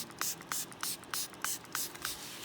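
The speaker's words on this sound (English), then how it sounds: "So we're gonna start spraying this bottle and we're gonna use the whole thing." A spray bottle squirts water onto a bath bomb mixture in a bowl, about eight short hissing bursts in a steady rhythm, close and fairly quiet.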